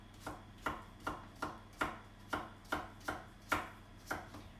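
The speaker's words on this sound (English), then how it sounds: "So just thinly chop that." A knife thinly chopping leftover cauliflower on a cutting board: about ten crisp, evenly spaced chops in a steady rhythm, close and clear with no talk.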